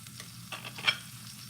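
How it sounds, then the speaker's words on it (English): Soft sizzling of sausage in a frying pan, a low steady crackle with a brief sharper pop near the middle. "So the sausage will make its own grease as you hear it sizzling."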